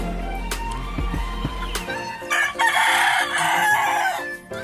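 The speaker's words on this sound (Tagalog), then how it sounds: "ipapalit naman natin ang ating mga alagang manok" A rooster crows loudly nearby, then several domestic chickens cluck and squawk in a busy stretch before it fades out.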